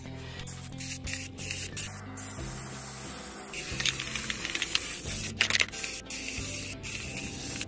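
Rust-Oleum primer sprayed from an aerosol can onto a laser-cut wooden HO scale model, several loud hissing bursts of varying length separated by short pauses, close up with no talk.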